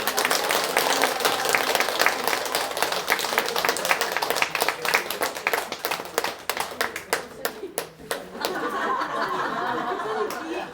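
Audience in a Buddhist temple gathering applauds a monk, a dense burst of clapping that thins into scattered claps and fades near the end, with faint chatter mixed in.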